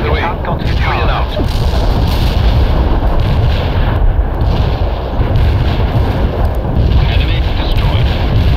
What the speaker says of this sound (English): Order barrage is on the way.